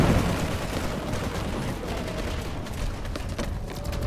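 Dense bursts of gunfire and explosions from the online shooter game PlanetSide 2 crackle continuously, loud and rapid with no pause and no talk.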